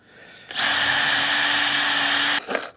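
A power drill drives a long screw into a wooden solar panel frame in one loud, close, steady whir of about two seconds, which cuts off sharply and is followed by a brief clunk.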